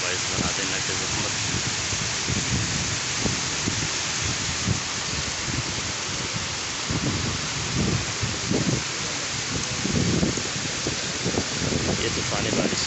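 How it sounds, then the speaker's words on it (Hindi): Heavy storm rain pours steadily over Islamabad in a dense roar, with low rumbling thunder rolling underneath and a voice speaking faintly through the downpour. "ये तूफ़ानी बारिश है, आप सब हज़रात देख सकते हैं।"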